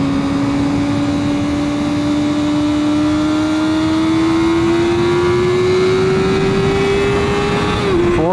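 Vehicle driving on Monte Cristo Road, a canyon dirt road in Utah, held in third gear: a steady, loud engine drone rising slowly in pitch under continuous road noise, with a brief shift in tone near the end.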